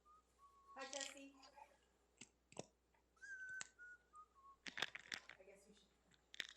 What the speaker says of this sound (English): Someone's whistling.